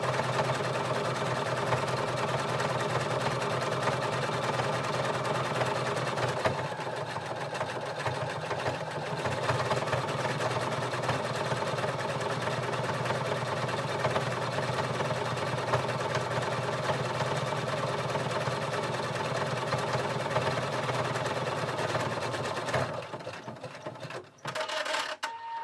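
A sewing machine stitches a buttonhole with a steady, fast mechanical whir that runs unbroken for over twenty seconds before slowing and stopping near the end.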